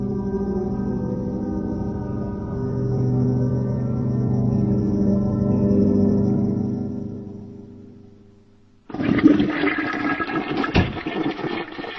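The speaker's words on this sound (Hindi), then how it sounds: "2 बार फ्लश करना पड़ा" A toilet flush in an animated film: a long rushing, gurgling water swirl for about nine seconds that fades out, followed by a second burst of water noise.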